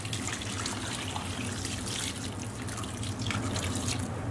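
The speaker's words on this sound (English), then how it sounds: "we're just going to cover all this with some cold water" Cold water is poured into a stew pot holding beef, potatoes and carrots for Persian tas kabab, a steady trickling and splashing stream under low background hum, no voices.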